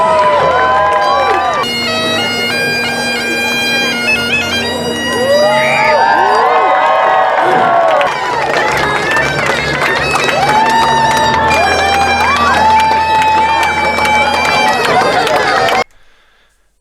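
A large outdoor crowd at the Keene, New Hampshire pumpkin festival fills the air with constant chatter, children shouting and cheers, loud and close throughout before cutting off abruptly near the end.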